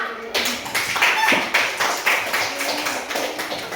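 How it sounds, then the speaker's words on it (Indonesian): A classroom of students applauds a classmate, giving scattered, moderately loud claps in an uneven rhythm that continues throughout. "Berikan aplaus untuk Faira"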